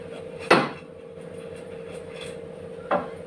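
Jackfruit pieces go into a pot for jackfruit biryani, landing in two distinct clunks about two seconds apart over a low steady hum. Both are close and moderately loud, with no talking.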